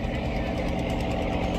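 Diesel engine of a fishing boat running just after launch, a close, loud, steady low throbbing rumble with a regular knocking pulse and no pause.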